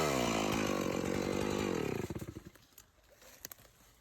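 A chainsaw with a 20-inch bar cuts into a walnut tree, running at a loud steady whine for about two seconds before it winds down into sputtering idle pulses.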